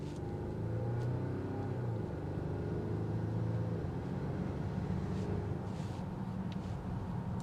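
A 2026 Volvo XC60 T8 Black Edition accelerates hard from a stop, its powertrain producing a steady, moderately loud surge of engine and road rumble heard from inside the cabin, with no voices.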